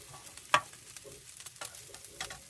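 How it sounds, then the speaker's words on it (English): Microwave rice fries in a little oil in a pan with a steady soft sizzle, broken by a sharp scrape or clack and light stirring noises. "So we're just going to fry the rice off."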